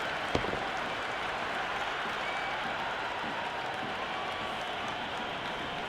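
A large stadium crowd at a T20 cricket match between Chennai and Mumbai applauds and cheers in a dense, continuous roar after a boundary, with a brief sharp crack near the start.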